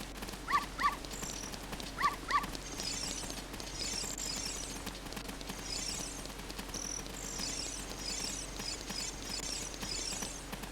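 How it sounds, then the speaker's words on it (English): Dog from The Legend of Zelda: Ocarina of Time, played on N64 via Project64 emulation, gives two pairs of short barks early on, followed by steady chirping insect-like game ambience. "I'm trying to get the silver dog to follow me."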